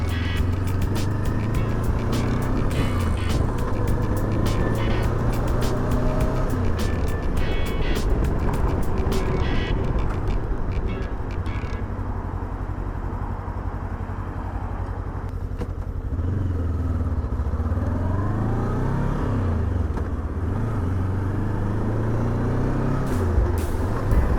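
A Voge 525 DSX motorcycle engine drones steadily while riding between Lviv and Kyiv, with rising and falling revs, gear changes and constant road and wind noise close to the microphone.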